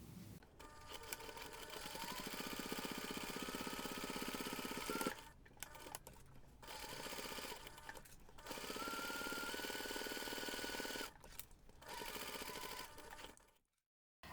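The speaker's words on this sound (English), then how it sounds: "you're going to take this to the machine and we're going to top stitch along the finished seam" Sewing machine top stitching along the finished seam of a reindeer pencil pouch, running in several long steady bursts with brief pauses between them, no talk.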